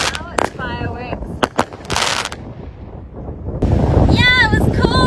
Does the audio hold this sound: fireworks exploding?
yes